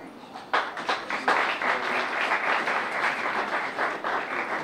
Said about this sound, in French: J'entends peut-être quelqu'un applaudir mieux au niveau du groupe Zaman